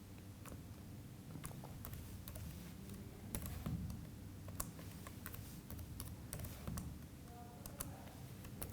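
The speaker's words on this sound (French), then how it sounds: "dès que je tape les premières lettres, en fait, les espèces apparaissent." Typing on a computer keyboard in an office, a loose run of quick light key taps at close range over a soft background rumble, with no talking.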